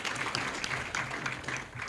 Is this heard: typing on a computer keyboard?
no